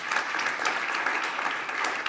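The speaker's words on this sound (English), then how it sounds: "I just invite everybody to join in a round of applause for us all" A conference audience applauds, a dense, steady wash of many hands clapping at once that fills the whole stretch at an even level.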